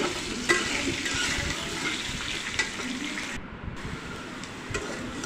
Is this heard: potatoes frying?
yes